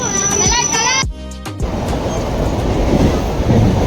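A fast suburban train runs on the rails from Dadar to Dahanu, its carriage giving a loud, steady rumble and rattle after a brief burst of voices at the start.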